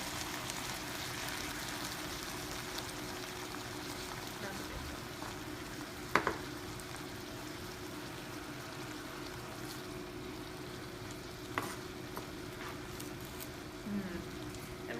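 Brussels sprouts and bacon simmering in broth in a pan make a soft, even bubbling sizzle that runs throughout, with a couple of brief clicks of utensils along the way.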